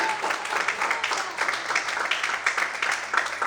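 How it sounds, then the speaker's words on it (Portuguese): A church congregation applauds during an evening worship service, steady dense clapping from many hands filling the room without pause. "Você pode aplaudir esse Deus?"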